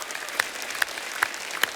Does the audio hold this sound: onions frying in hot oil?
no